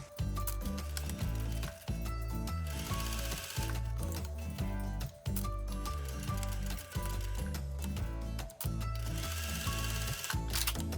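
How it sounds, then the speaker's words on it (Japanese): A sewing machine stitches around an opened seam allowance on a child's pair of trousers made from echino fabric. It runs with a fast, steady mechanical rattle in several long runs, each broken by a short stop. "そしたらここの縫い代を開いて、この周りをステッチで留めていきます。"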